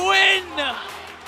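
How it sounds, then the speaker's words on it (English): An arena crowd at a Philippine MPL mobile esports match lets out a loud rising whoop and cheer that swells briefly and then fades into a softer murmur. "And you can hear the crowd."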